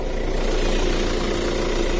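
A Hyundai Creta with the 1.6 engine idles, a steady, fairly loud mid-low drone with constant vibration and no variation, heard close by without speech.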